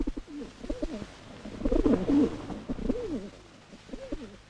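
Several pigeons coo in low, throaty, rolling calls, overlapping close up with faint background noise.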